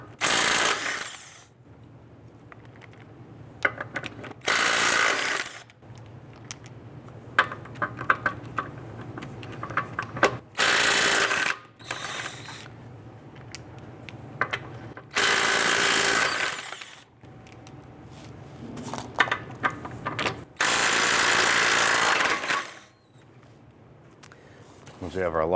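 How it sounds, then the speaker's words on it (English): Loosening lug nuts on a Chrysler 300 wheel with a power tool and 21mm socket, several loud bursts of whirring a few seconds each, separated by quieter handling clicks and someone talking. "I'm going to loosen and remove our lug nuts."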